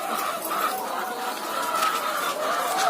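Laying hens on a poultry farm in Rajasthan cluck in a dense, continuous chorus, many birds close and far at once, a steady busy murmur with occasional sharper calls.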